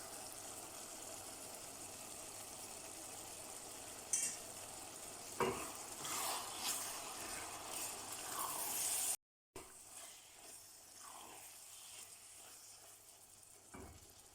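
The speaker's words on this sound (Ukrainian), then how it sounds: "Вкидаємо 2 столові ложки томатної пасти і тушкуємо приблизно 3 хвилинки" Steady low sizzling and bubbling from a pan of tomato paste stewing for chili con carne, with a few scrapes of stirring and a brief dropout partway through.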